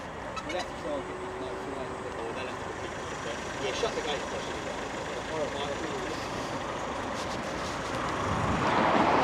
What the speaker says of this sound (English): Left his engine running the whole time, this chap.